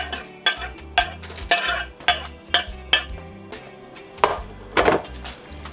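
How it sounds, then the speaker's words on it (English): Okra, onions and garlic are stirred in a pot of pepper pot soup, with a spoon scraping and knocking the pot in a steady rhythm of sharp, close strokes, roughly two per second, and no talking. "Give that a little stir."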